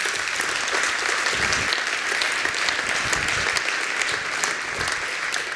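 An audience claps at the launch of a university entrepreneurship and innovation hub, a steady, even roar of applause from a large crowd that holds at constant strength for several seconds.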